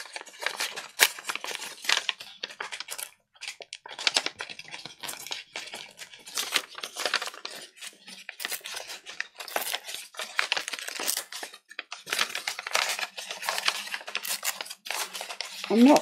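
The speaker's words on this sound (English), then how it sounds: "I'm just going to tear him round here and use that bit up there" Paper being torn and handled by hand for a steampunk art journal page, a continuous run of crisp close ripping and crinkling bursts, with a voice talking intermittently.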